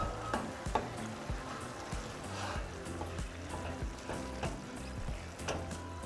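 Sizzling beef stirred with tomato sauce and chopped cilantro in a pan for sopes de bistec ranchero. A steady moderate sizzle is punctuated by repeated sharp utensil scrapes and clicks.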